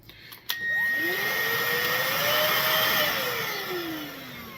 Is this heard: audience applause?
no